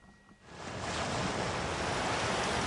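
Monstrous seas off Cape Horn roar and surge around a sailing boat, swelling in after a brief lull into a loud, continuous wash of surf and wind with no voices.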